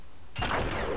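One abrupt gunshot in the PS2 video game Enter the Matrix lands a headshot, a sudden close blast that rings on briefly.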